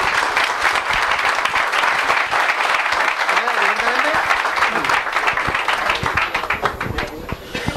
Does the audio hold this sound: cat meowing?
no